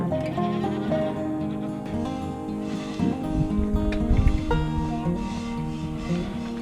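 A friendly goat on a homestead bleats repeatedly in wavering, harmonic cries, fairly close, with a busier patch of rustling and movement midway through.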